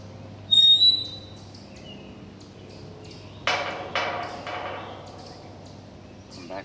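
An underground gate is pushed open. A short scraping clank comes first, then a longer grinding rattle with a few metallic knocks and faint creaks. It is fairly close and there is no talk over it.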